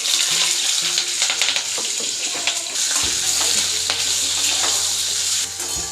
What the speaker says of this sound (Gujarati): મરચાંને આપણે થોડા સતળાવા દઈશું